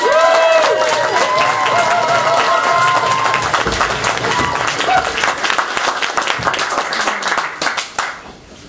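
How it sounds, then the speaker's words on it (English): Audience at a Bright Club comedy night in Newcastle claps and cheers loudly for several seconds, a dense wash of applause with a few whoops and voices that fades out abruptly near the end. "Big round of applause!"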